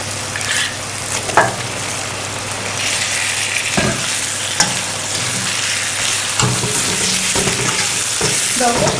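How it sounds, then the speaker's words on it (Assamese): Chicken pieces frying in a pan, a loud continuous sizzle with repeated scraping and clattering as the meat is stirred. "তেওঁ সকলো ভাজি লোৱাৰ পিছত তাত তেওঁ মাংসখিনি দি দিছে"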